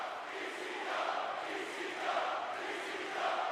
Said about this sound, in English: And you hear this crowd.